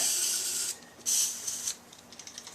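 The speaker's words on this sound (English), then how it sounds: "So get some silicone spray on all your boots," Short hissing bursts of silicone aerosol spray onto the carburetor boots of a 1981 Honda CB650, one long blast then another, followed by a few quick light spritzes, fairly close.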